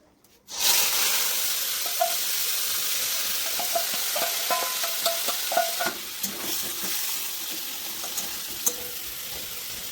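Marinated meat hits a hot pan and erupts into a loud, steady sizzle that carries on through the whole stretch, broken by scattered clinks and scraping stirs of a utensil.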